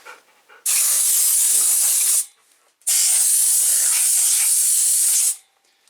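Two strong, close bursts of compressed air hiss loudly onto a Hanway Fighter 125cc motorcycle engine part, each lasting a second or two with a short pause between.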